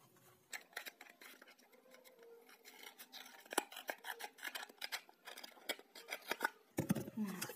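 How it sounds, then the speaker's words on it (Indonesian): Scissors snip through a UHT milk carton, cutting along its edges in a series of crisp, close snips and crunches with short pauses, with no voices over the cutting. "Lalu kita gunting pinggirnya."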